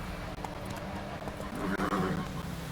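The horse Roach from The Witcher 3 whinnies loudly and close, with hooves clip-clopping underneath and a voice speaking briefly over the animal.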